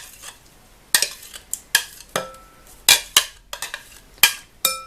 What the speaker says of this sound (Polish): I mieszam łyżką.